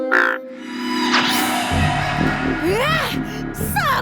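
Cartoon frogs croak in a cartoon where village boys have been turned into frogs, a run of warbling, rising croaks over music and effects, loud and close.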